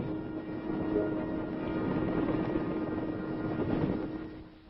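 Several military helicopters fly together in formation, their rotors a steady, muffled low drone with a faint rhythmic chop, heard from inside or near the aircraft on an old, narrowband documentary recording.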